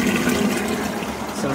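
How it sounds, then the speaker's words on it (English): Rainwater pours steadily through the fine screen of a WISY rainwater filter, a dense, continuous rushing and splashing heard close up without pause. "you see the water just flows right through the screen."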